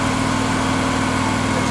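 The engine of a Miller 325 EFI Trailblazer welder generator running at a steady idle, a constant loud drone with an even low pulse and no change in pitch.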